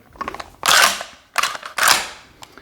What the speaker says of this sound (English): Then when I chamber a new round, it'll dump the round from the mag tube into the lifter.